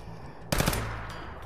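A quick burst of automatic gunfire at a shooting range in Fallout 4, several rapid shots crowded into a fraction of a second and then a faint trailing echo, heard alone.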